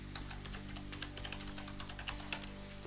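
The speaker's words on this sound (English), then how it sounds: "So once prompted, type the ID" Rapid, steady typing on a computer keyboard while entering a Docker Hub login ID, with close, crisp key clicks over a low electrical hum.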